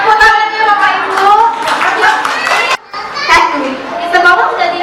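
Parents and the audience at a children's abacus competition clap for a few seconds, under loud, overlapping children's voices and chatter.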